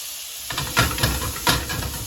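Butter sizzles around a steak in a hot pan, a steady close hiss that starts after a short quiet moment and swells in a few brief surges.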